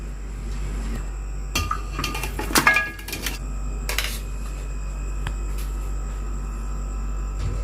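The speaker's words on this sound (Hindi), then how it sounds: "अब हम इसके अंदर डालेंगे गोश्त" Meat is dropped into a cooking pot for Delhi-style nihari, with a cluster of clinks, knocks and soft thuds from metal cookware against a low steady hum, then quieter scattered taps.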